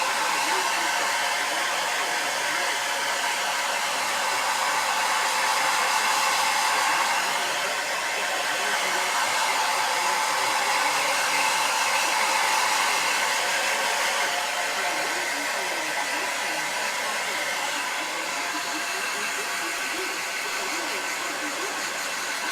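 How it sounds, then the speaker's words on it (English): A hair dryer blows steadily and loudly close by while drying a freshly bathed cat, a continuous airy roar lasting over twenty seconds with slight shifts as the dryer moves. "Okay, now we're ready for blow drying"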